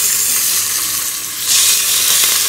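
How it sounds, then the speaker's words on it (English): Pork prime ribs browning in oil inside a La Gourmet multi-cooker, giving a steady, close, loud frying sizzle that swells slightly toward the end, with no talking. "The reason I'm browning them is that I want to have a good color when I serve them later."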